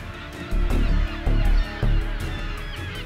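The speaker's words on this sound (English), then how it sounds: "Thousands of young pelicans that hatched on the island a few months earlier." Young American white pelicans on an island in Utah's Great Salt Lake give low, honking grunts in a few loud, close bursts over a steady colony din.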